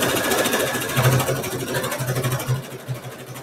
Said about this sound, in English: we'll stitch out the next step